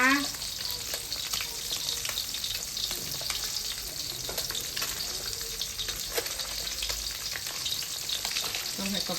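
White fish from the Mun River deep-frying in hot oil, a steady dense sizzle and crackle running throughout with occasional stirring sounds and no voices.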